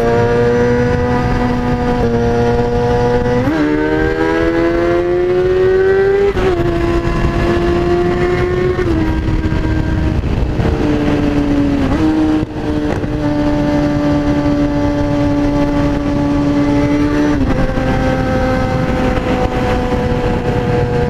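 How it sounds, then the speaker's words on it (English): A Kawasaki ZX-6R sport motorcycle revs hard and close, its loud high-pitched engine tone climbing and dropping through several long sustained revs with no voices. "This bike fucking sounds good. Not gonna lie, just straight up sounds fucking good."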